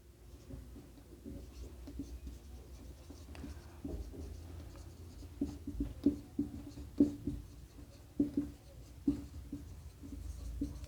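Chalk or pen writes on a board during a geometry lesson, with irregular scratchy taps and strokes growing busier and louder in the second half against a quiet room.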